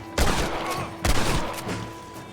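Gunfire in Red Dead Redemption: two loud, close shots about a second apart, each followed by a ringing decay over faint background ambience.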